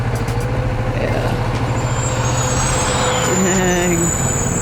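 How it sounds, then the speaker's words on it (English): A garbage truck rumbles nearby in steady traffic, its heavy engine droning continuously while a sharp air-brake hiss and higher whine cut in near the end. "About to face off with the trash truck."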